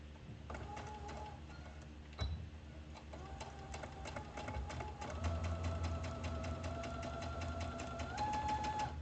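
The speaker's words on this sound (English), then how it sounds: "Oh, it's still doing the basting stitch." A sewing machine runs a long basting stitch on a T-shirt dress, with a steady mechanical rattle and rapid needle ticks. The whirring starts and stops at first, then holds at a fairly loud, even speed, with no voices.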